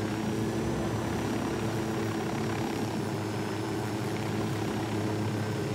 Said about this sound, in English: Strange helicopter coming in.